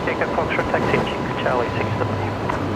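An Air New Zealand jet rolling for takeoff at Brisbane airport, a distant broad engine roar droning steadily beneath people talking.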